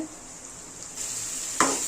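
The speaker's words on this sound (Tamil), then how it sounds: "முதல்ல நல்லா இது வதக்கிக்கலாம் வெங்காயத்தை" Steady frying sizzle of onions sautéing in a pan, a constant hiss that grows slightly louder midway, with a brief utensil clink near the end.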